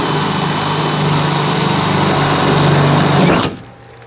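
A power drill whines steadily at high speed as it bores through the second layer of a Sprinter van's metal body. It runs loud and close for about three seconds, then stops abruptly.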